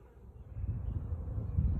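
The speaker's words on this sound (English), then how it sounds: "the bees here are just robbers. They're just cleaning it out." Robber honeybees circle a hive in an apiary on a warm day, a close, low droning buzz of many wings that swells and stays steady with no voices.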